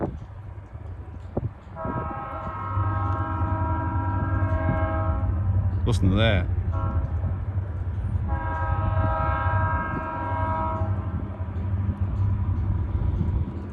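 Freight train locomotives, a pair of engines newly arrived on the Cincinnati Eastern Railroad, rumble toward a crossing with a steady heavy drone, sounding a long multi-tone horn blast twice, with a sharp bell-like clang mid-clip and brief speech early on.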